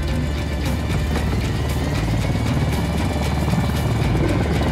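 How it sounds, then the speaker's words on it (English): A helicopter in the video game Ghost Recon Wildlands drones steadily with a dense, loud rotor and engine roar that fills the whole moment, with no voices over it. "Helicopter inbound."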